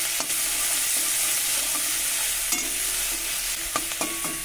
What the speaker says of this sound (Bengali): দিয়ে দিচ্ছি বেটে রাখা পেঁয়াজ। পেঁয়াজ একটু ভালো করে ভাজা করে নেব।